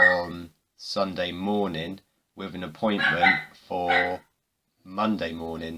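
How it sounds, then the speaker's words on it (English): A dog barks in the background while someone talks continuously over it, the barks faint and intermittent beneath his speech. "sorry for the dog barking"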